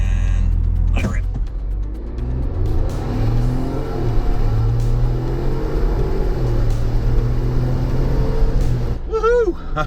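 A 2021 Ford Bronco launches hard from a standstill in a 0 to 60 run, its engine revving and pulling strongly for several seconds as a steady loud drone, with a brief whoop of voices near the end.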